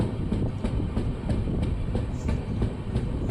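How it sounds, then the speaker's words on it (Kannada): The Mysore–Chennai SF Express rolls into Channapatna station toward platform 3, its wheels giving a steady, close, rhythmic clickety-clack over the rails with a continuous rumbling roar and no voices. "ನಮ್ಮ ಟ್ರೈನ್ ಈಗ ಚನ್ನಪಟ್ಟಣ ರೈಲ್ವೆ ಸ್ಟೇಷನ್ ಒಳಗೆ ಎಂಟ್ರಿ ಆಯಿತು"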